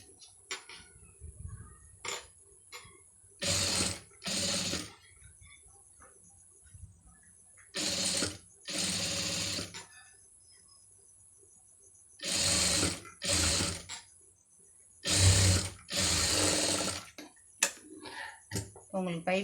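Short bursts from a sewing machine stitch piping onto a blouse with a scallop design. Several quick runs of whirring stitches are separated by quiet pauses and small handling noises.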